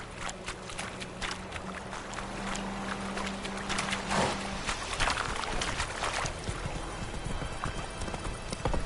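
Horse hooves clip-clop steadily on the ground in The Witcher 3 video game, a rhythmic, fairly close trotting beat, with game ambience and a low drone beneath.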